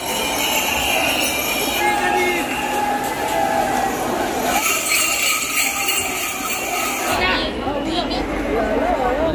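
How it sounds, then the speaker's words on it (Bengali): A crowded local train on the Howrah to Sheoraphuli line rumbles steadily along, its carriage noise continuous and fairly loud beneath a background of passenger chatter and voices. "আমরা এখন এই ট্রেনে করে যাচ্ছি।"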